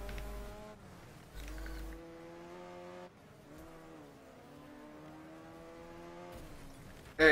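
A car engine in a racing video game, a steady droning whine that rises and falls in pitch as it revs, holding throughout with a few sharper shifts and a loud burst at the very end.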